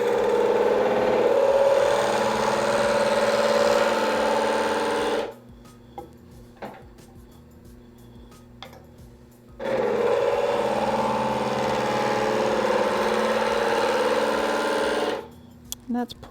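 A metal spinning lathe shapes copper mesh, with a steady whirring drone running for about five seconds, stopping, then running again for another five, with faint clicks and a voice speaking in the quiet gap.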